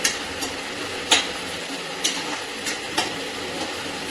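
Ingredients for lapsi, a Maharashtrian jaggery sweet, roast in a pan over a low gas flame. A steady sizzle runs underneath, with a few sharp scrapes and stirring clicks spaced through the clip and no one speaking.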